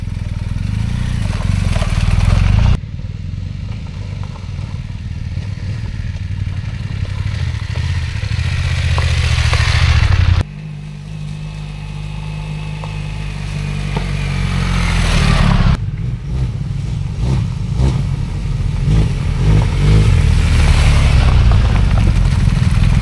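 Motorcycle engines, including a BMW R1250 GSA, rev and drone loudly over rough mountain off-road trails in Nagano, rising and falling across several cuts, with clattering and wind noise throughout.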